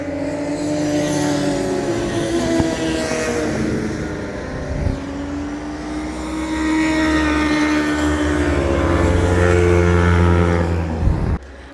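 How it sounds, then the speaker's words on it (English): Engines whine and rev loudly, rising and falling in pitch as motorbikes roar past nearby, one after another. "Yay! Motorbikes! Hell yeah!"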